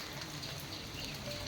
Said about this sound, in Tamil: மழை பயங்கரமாக இருக்குது.